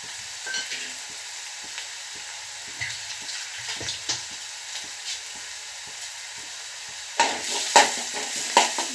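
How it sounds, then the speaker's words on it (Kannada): Masala spices with salt fry in a little oil over low flame, a faint steady sizzle punctuated by soft spoon scrapes and stirs, growing louder and busier near the end. "ಸ್ವಲ್ಪ ಎಣ್ಣೆಯಲ್ಲೇ ಫ್ರೈ ಆಗಬೇಕು ಮಸಾಲೆ"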